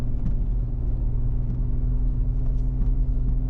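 A vehicle's engine drones steadily, low and close, as it drives through deep snow toward a national forest with the throttle feathered. The rumble holds even with slight surges and faint crunching on top.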